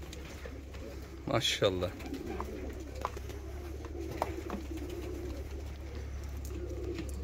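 Fancy pigeons of the Russian soldier breed coo in a low, soft murmur over a steady background hum, with someone speaking briefly near the start.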